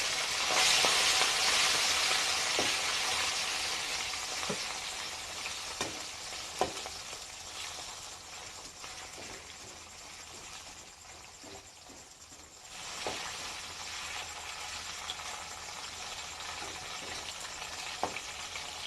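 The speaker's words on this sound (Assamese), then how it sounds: "তেলটো গৰম হৈ গৈছে, এতিয়া আমি মাছখিনি হাফ ফ্ৰাই কৰি লওঁ।" Small local fish half-frying in hot oil in an Assamese village kitchen, a loud, dense sizzle at first that settles into a steady crackle with occasional pops and soft clinks, no talking.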